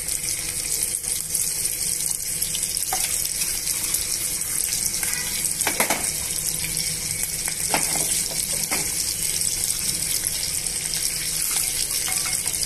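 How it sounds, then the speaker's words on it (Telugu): Onion and green chilli pieces fry in a hot pan for upma in a pressure cooker, a steady dense sizzle close by with occasional stirring scrapes and no talking. "ఉల్లిపాయ ముక్కలు, పచ్చిమిరపకాయ ముక్కలు వేసుకున్న తర్వాత బాగా వేగనివ్వండి."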